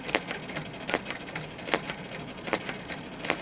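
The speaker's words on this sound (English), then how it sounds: "I'm quilting it with white so you can't really see the white" A sewing machine quilting fabric with white thread runs in quick bursts of light mechanical clatter, irregular pulses of stitching with brief pauses between them, fairly close.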